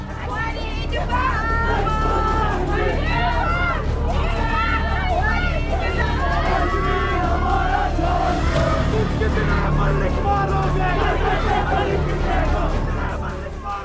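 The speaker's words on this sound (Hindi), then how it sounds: "उसके घर पर जमा भीड़ उसके समर्थन में प्रदर्शन कर रही थी, नारे लगा रही थी।" A large crowd gathered outside a house in the Kashmir valley protests in support of separatist leader Yasin Malik, shouting slogans loudly and continuously, with dense overlapping voices and chanting throughout.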